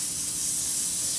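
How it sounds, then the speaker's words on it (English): Spray adhesive hisses steadily from an aerosol can during a canvas craft project, a close, continuous bright spray with no break over the short burst. "we are going to get the spray adhesive."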